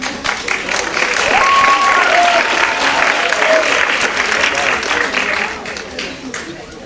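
A theater audience applauds loudly and steadily, the clapping holding for several seconds before gradually tapering off.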